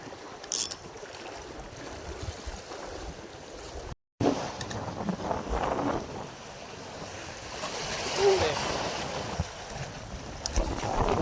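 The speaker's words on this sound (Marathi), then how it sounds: "वारा थोडा जास्तच आहे." Strong wind buffets the microphone over open sea on a fishing boat, with waves and the boat's rumble beneath, gusting louder at times; no speech.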